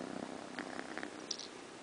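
A tired, snuggling cat purrs softly and steadily, with no talking.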